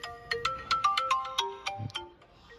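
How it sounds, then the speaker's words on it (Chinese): A mobile phone ringtone plays a bright, repeating melodic chime of about a dozen quick notes, loud and close, signalling an incoming call late at night. "有电话来了。"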